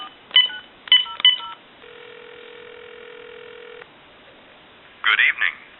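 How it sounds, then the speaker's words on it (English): Touch-tone dialing beeps from a Uniden EXS9966 two-line 900 MHz cordless phone on speaker: two quick bursts of DTMF tones, a steady dial tone lasting about two seconds, then a brief ringback chirp, all fairly close and clear. "We'll call time and temp."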